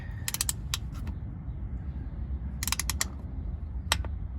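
A torque wrench ratcheting and clicking at 15 foot-pounds during a transfer case fluid change on a 2019–2022 RAM 1500, with several crisp clustered clicks over a low background hum.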